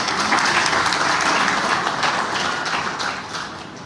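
A crowd at a Sunar community function in Meham, Haryana, gives a round of hearty applause, loud and continuous at first and then gradually easing off.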